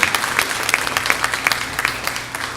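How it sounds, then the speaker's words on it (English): Audience applause for a contestant at a 2016 talent show quarter-final, a steady, fairly close round of clapping with sharp individual claps standing out throughout. "Another round of applause."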